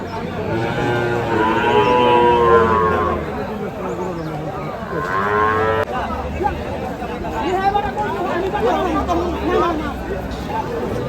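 Cows low repeatedly at Hazratpur cattle market in Keraniganj, Dhaka, the area's largest cattle market, with long, loud moos rising over a steady hubbub of crowd chatter and people talking close by.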